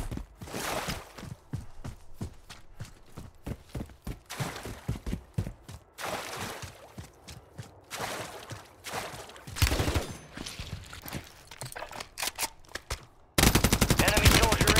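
Rapid gunfire in the Call of Duty video game, a dense run of close automatic bursts and single shots with brief pauses between volleys, ending in a loud sustained burst; no talking.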